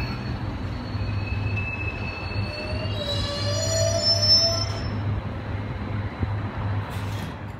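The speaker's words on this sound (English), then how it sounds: "This is a T5 empty line train." An empty T5 line train pulls away from the platform, its low rumble steady throughout while high, thin wheel squeals rise and fade across the middle of the clip.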